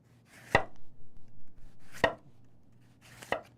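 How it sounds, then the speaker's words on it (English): A knife slices thinly through fennel on a cutting board, making three crisp, evenly spaced chops, each one close and distinct, with quiet pauses between them and no talking. "So we're gonna start by cutting some of the fennel."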